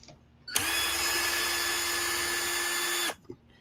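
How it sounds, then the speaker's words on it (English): A power drill whirs at steady speed for about two and a half seconds in a hobby workspace where an RC monster truck is being fixed, starting and stopping abruptly, loud and close, with no talk over it. "I gotta use the drill just a second."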